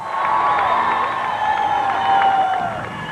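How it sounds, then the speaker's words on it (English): A crowd cheers and applauds to welcome President Bush home at the White House, a dense, sustained roar of voices and whoops with scattered shouting throughout. "Bush was welcomed home by a cheering crowd."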